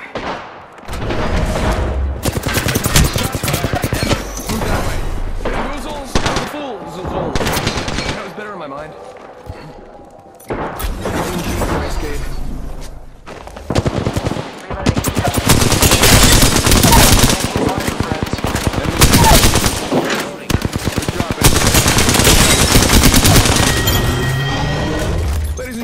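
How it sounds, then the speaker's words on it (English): Rapid machine gun fire in a first-person shooter video game, loud bursts repeating through much of the stretch with pauses between volleys, while a player talks over the action. "Opening fire."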